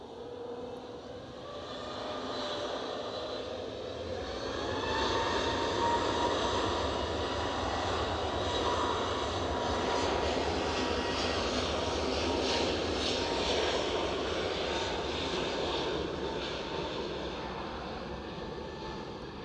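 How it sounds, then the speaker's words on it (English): A fixed-wing airliner departs Edinburgh airport, its jet engine roar swelling to a broad, loud peak mid-clip and then slowly fading away as the plane recedes, heard alone without talk. "Eerie, isn't it, the way the sound just drops away as the plane leaves you."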